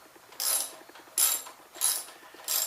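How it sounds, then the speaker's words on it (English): Socket wrench ratcheting a bolt on a Briggs and Stratton engine, four evenly spaced bursts of quick close clicks, crisp and moderately loud with quiet gaps between. "it's easier just to use the socket on it"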